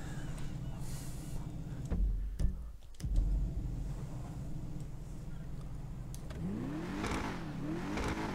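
An Albany V-STR sports car engine in GTA Online starts and revs, giving a steady, fairly loud drone with rising throttle swells near the end, behind faint game sounds.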